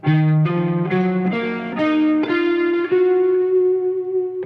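Electric guitar picks out a minor add-nine arpeggio, notes rising one by one and ringing together, played alone with effects-laden sustain and reverb.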